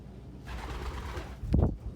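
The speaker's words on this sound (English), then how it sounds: "watching pigeon courtship" Pigeons coo during courtship near the listener, a soft low murmur building into a louder, deeper coo burst toward the end, with no talking.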